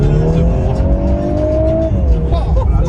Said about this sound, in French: on sent le turbo qui charge, on l'entend en même temps